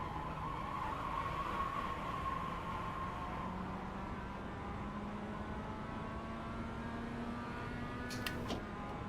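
GT3 race car braking hard into a corner on a track, with a steady engine drone, a slowly rising tone and faint tire noise, ending in two quick sharp clicks.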